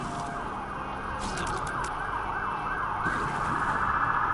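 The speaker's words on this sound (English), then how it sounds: "That's an ambulance." An ambulance siren wails steadily in the distance outside a home, its rising and falling tone carrying clearly over low background rumble, with no voices.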